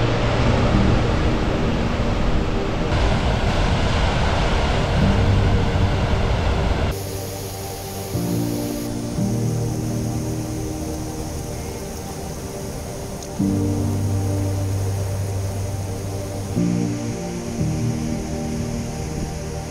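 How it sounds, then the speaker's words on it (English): The powerful Godafoss waterfall in Iceland gives off a continuous heavy roar of falling water, loud and broad, shifting in tone partway through as the listening spot changes. "This next waterfall isn't recommended for bathing. The powerful Godafoss."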